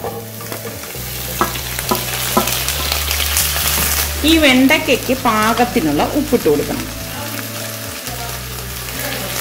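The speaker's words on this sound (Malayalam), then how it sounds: "ഇനി നമുക്ക് ഈ അരിഞ്ഞു വെച്ചിരിക്കുന്ന വെണ്ടയ്ക്ക ഇതിലേക്ക് ഇട്ടിട്ട് വഴറ്റി കൊടുക്കാം." Chopped okra and green chillies sautéing in oil in a pan, a steady sizzle and stirring scrapes running throughout beneath someone speaking.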